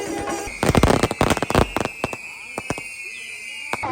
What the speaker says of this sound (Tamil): மேலே போய் வண்ண வர்ணங்களாக வெடிக்கிற அந்த வெடி பார்த்தீங்கன்னா இங்கே இருந்து தான் கொளுத்து வெடிக்கிறேன்.